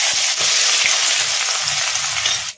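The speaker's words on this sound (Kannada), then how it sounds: "ಉಳ್ಳಾಗಡ್ಡಿನ ಲೈಟ್ ಬ್ರೌನ್ ಕಲರ್ ಬರೋವರೆಗೂ ಫ್ರೈ ಮಾಡ್ಕೊಂಬಿಡೋಣ." Chopped onions fry in hot oil in a kadai for a chicken fry, giving a loud, steady sizzle close by. Soft scraping stirs break through it, and nobody speaks.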